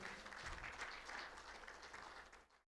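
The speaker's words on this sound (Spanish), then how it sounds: "Muy bien, bienvenidos, un aplauso." An audience at a regional church assembly gives a brief burst of applause, a fairly faint, even patter of many hands that fades out after a couple of seconds.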